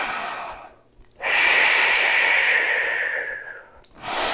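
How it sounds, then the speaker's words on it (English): Two deep breaths are taken close by, each a long loud airy inhale-exhale with a brief pause between, followed by the start of a third. "Take 2 big breaths here."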